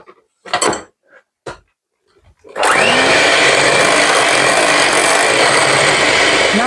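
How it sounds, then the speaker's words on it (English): An electric hand mixer beating Yorkshire pudding batter of flour in a bowl: a few brief clunks and taps, then a loud steady whirring drone that starts abruptly and runs on without a break. "And then back in with the mixer."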